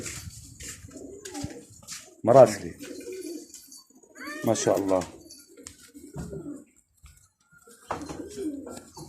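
Pigeons coo and flutter nearby in short bursts, with someone talking over them and a few loud wing claps.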